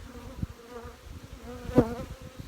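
Honeybees from a queenless hive buzz close around a beekeeper, a dense, restless drone that swells briefly as one passes near the ear, with no talking.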